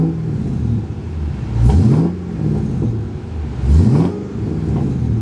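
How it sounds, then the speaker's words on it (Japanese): A supercharged 450-horsepower V8 in a 2000 Chevrolet Corvette C5 coupe revs twice in quick throttle blips, roaring up and falling back to a deep idle rumble, loud and close. "でじゃあちょっと軽くアクセル吹かしてみます。"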